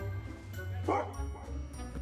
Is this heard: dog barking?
yes